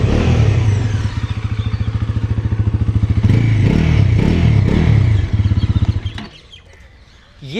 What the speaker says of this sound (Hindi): इंजन बहुत स्मूथ लग रहा है और वाइब्रेशंस बिल्कुल भी फील नहीं हो रही हैं।